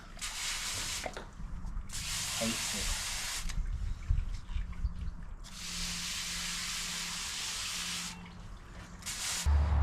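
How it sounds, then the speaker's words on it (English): Warm water sprays onto a dog during a bath, coming in several hissing bursts of a few seconds each, with a person talking close by throughout. "You get nice warm water to wash him."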